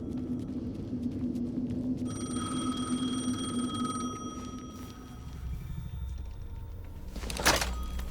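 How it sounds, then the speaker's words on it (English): A telephone rings in the video game Alan Wake 2, a clear electronic ring tone sounding over a low ambient hum, followed by a sharp thunk near the end. "The phone again."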